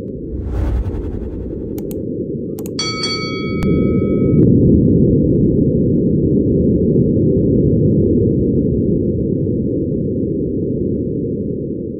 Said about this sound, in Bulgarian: Чува се само лек вятър.